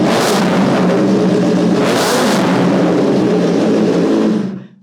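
A loud modified Kawasaki ZX-10R sport motorcycle engine revs hard twice, the roar surging and falling back, holding steady before cutting off abruptly near the end.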